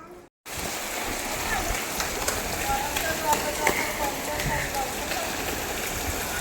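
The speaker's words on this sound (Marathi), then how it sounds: "पाऊस पडतोय ना" Steady rain patters and hisses on surfaces, with faint voices in the background.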